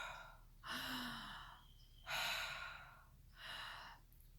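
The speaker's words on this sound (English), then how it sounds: "she described it as taking a big, powerful breath in" Three big, powerful breaths drawn in through an open mouth, each a loud rushing gasp separated by short pauses, heard up close with no talking.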